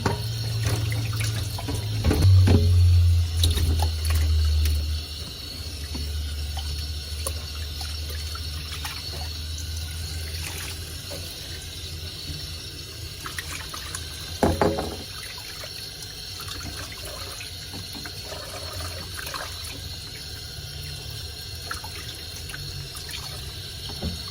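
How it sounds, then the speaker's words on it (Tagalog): Salmon is rinsed under running tap water in a sink, with louder splashing and gushing at first and then a steady softer flow with occasional handling knocks. "Isa pang banlaw."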